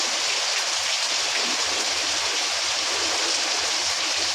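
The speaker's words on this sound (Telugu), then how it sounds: "మొన్నటి వరకు వర్షాలే మరలా వర్షం" Steady winter rain falls continuously, a dense even hiss of drops striking surfaces with no voices and no pauses.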